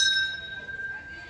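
A metal temple bell at Jagannath Temple in Bokaro Steel City is struck once, giving a bright, sustained ringing tone that slowly fades, heard close under a murmur of voices.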